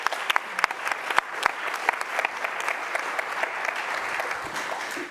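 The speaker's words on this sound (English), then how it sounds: "Please give a good and loud round of applause for Mycotex by Nefa Aniela Hointing." Loud, steady audience applause at a live social innovation pitching competition, dense clapping from a large crowd sustained for about five seconds with sharper individual claps standing out near the start.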